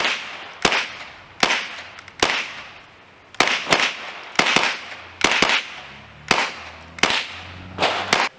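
A .22LR KRISS Vector fires Herter's hollow point target ammo, giving a series of sharp, loud single shots at an irregular pace, about a dozen cracks over several seconds, each with a short outdoor decay.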